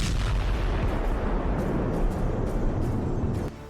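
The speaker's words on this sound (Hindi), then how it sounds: "एक टेस्ट के दौरान जब इसके धमाके को रिकॉर्ड किया गया तो क्या क्या दिखा" An M30A1 HIMARS rocket warhead detonates during a test, a loud sustained roaring blast with crackling bursts that holds for over three seconds before dropping off sharply.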